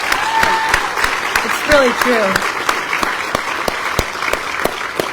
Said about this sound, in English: give her a special round of applause